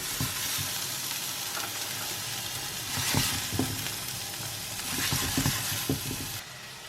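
Food frying in a pot after salting, with a steady sizzle and occasional stirring clatters and scrapes throughout, fairly close and alone with no talk.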